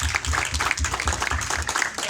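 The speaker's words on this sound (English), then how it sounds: "I'm going to give applause to them" An audience at a mental health and spiritual wellness event claps together in a fairly loud, steady round, with some rhythmic low thumps running underneath.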